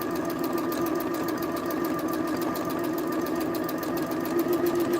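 A sewing machine stitching a drawstring gift bag with French seams, running continuously with a steady rapid mechanical hum and fast needle rattle, close and even for the whole stretch.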